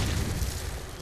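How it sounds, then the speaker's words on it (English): A stun grenade goes off in Call of Duty 4, a dense, loud, booming burst that fills the whole moment with no talking. "I've stunned him mid."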